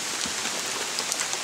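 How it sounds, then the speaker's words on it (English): Rain falls steadily during Hurricane Irene, a constant bright hiss with scattered drips and patters close by, uniform across the short stretch with no talk. "now picking up with the rain."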